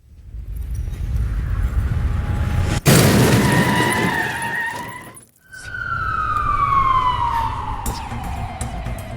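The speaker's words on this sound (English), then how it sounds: "So loud crash that we had there, Joe." Car crash sound effect: a loud sudden smash with shattering debris, followed by a wailing emergency siren sweeping downward, loud and close with no talking.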